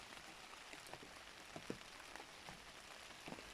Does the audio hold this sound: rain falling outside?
yes